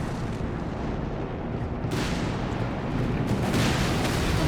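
Heavy bombing rumbles in a Company of Heroes 3 match, a thick, sustained roar of explosions and artillery that swells louder partway through, loud and continuous with no talk.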